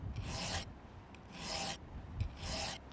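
A hand file sharpening a chainsaw chain, three slow, even rasping strokes about a second apart, close but faint, with no other sound.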